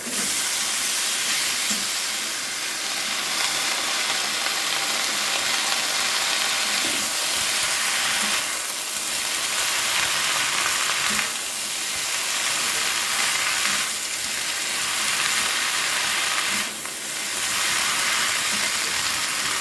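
Chopped bottle gourd leaves cooking in a hot pan give off a loud, continuous steamy hiss that swells and eases in slow waves, close by and without speech.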